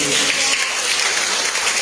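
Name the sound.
congregation applauding in church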